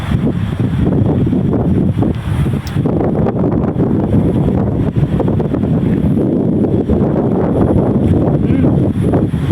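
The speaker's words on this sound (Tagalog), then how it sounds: "Lakas ng hangin." Strong wind blows outdoors in Taiwan, buffeting the microphone with a loud, continuous roar and gusty rushing that never lets up.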